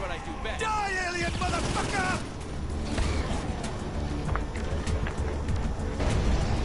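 Rocket launcher blasts and gunfire in the Saints Row IV alien combat, dense and continuous, mixed with explosions and engine noise while players shout over the chaos.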